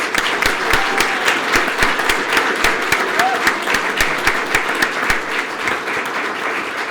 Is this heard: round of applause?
yes